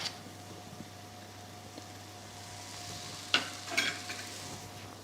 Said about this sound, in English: while I just mix up my potatoes, just so that they can get a bit crispy and golden on the other side, as well as the corn